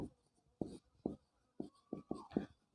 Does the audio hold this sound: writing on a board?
yes